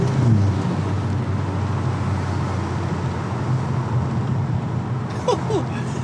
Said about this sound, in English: I love the audible noise that an open air intake adds to this car.